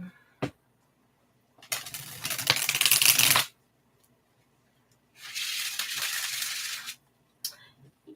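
A deck of tarot cards riffled and shuffled in two close, loud bursts of rapid papery flutter, separated by silence, with a few light taps at the start and end.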